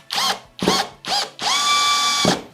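A power drill run in reverse to back out a screw: three short bursts of whirring motor, then one long steady whine lasting nearly a second, loud and close with no talking.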